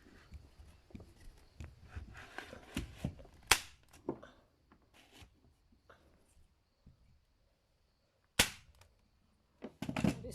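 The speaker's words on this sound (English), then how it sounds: "the loud noise is the gun firing the staples" Staple gun firing staples during a farm house porch renovation, heard as a few sharp, loud cracks spaced irregularly, each a short snap, between quieter rustling and handling sounds close by.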